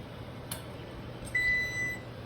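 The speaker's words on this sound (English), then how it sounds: "my timer for my second hop addition is going off" A home-brewing timer goes off in a quiet kitchen with one steady electronic beep tone, preceded by a couple of faint clicks.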